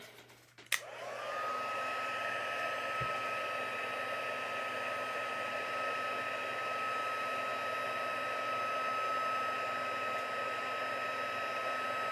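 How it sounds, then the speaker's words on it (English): Heat gun for heat embossing a stamped card switched on after a click, then blowing a steady, close whooshing hum with a high whine that runs unbroken to the end. "Okay, so I'm going to bring in my heat gun."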